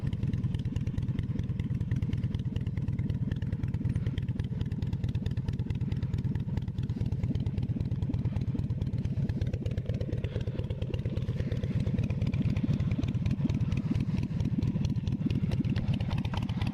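A 2008 Harley-Davidson Sportster 1200 Nightster idling nearby with a steady, deep, lumpy rumble and mechanical clatter, continuous throughout without revving.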